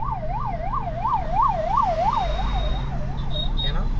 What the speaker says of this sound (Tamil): ஆம்புலன்ஸ் வருதுடா, ஆம்புலன்ஸ் தானே.